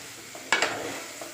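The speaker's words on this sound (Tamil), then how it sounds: "நல்லா கிளறிக்கோங்க. அந்த மசாலாவோட நல்லா ஆட் பண்ணணும்." Eggplant, broad beans and drumsticks being stirred into masala in a pan for tamarind curry, soft scraping with a gentle sizzle underneath, two quick louder strokes in the middle and a faint stir near the end.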